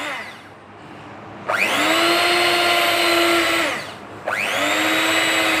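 An electric hand mixer beating cake batter whirs in two steady bursts, with a brief pause in the middle when the motor dips before it starts up again. The motor is loud and close, and nobody speaks.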